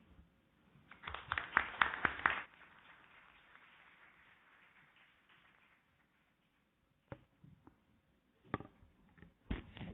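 Brief, scattered clapping from a small audience welcoming a speaker at a university panel, a short burst that fades out, then a few isolated claps after a quiet gap.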